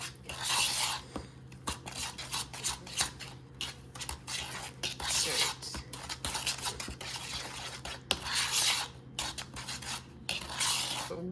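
Chocolate chip cookie dough being mixed in a bowl, with steady scraping and clinking of a utensil against the bowl in a continuous rhythmic stirring, close and moderately loud, with no voices.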